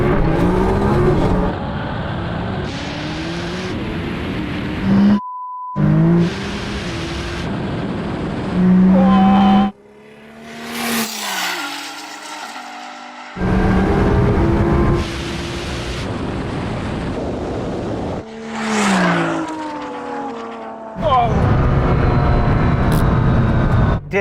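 Three heavily tuned supercars, a 1200hp Audi R8, a 1600hp Nissan GT-R and an 1100hp McLaren 720S, in a drag race, engines revving hard and accelerating in loud bursts separated by brief quiet gaps, with rising pitch sweeps as they pull away.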